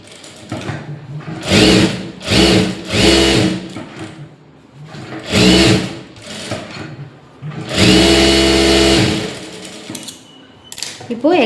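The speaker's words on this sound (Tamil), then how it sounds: "திரும்பவும் அதே போல் சுற்றி தையல் ஓட்டிக்கலாம்." Sewing machine running stitches around a lined blouse in several short bursts and one longer run, a close, loud whirring with mechanical clatter and brief quiet gaps between passes.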